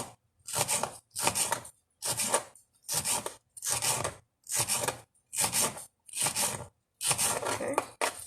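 A knife slices a serrano pepper thinly on a cutting board, nine crisp, evenly spaced cuts close up, each a short scraping chop with quiet gaps between, no talk.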